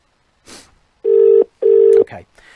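Incoming call ringing through a phone system, two loud steady ring tones about half a second each with a pause between, preceded and followed by brief softer clicks and noise.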